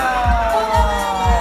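A crowd at a school arts show cheers, with sustained shouting and whoops that swell and fall close by across the short stretch.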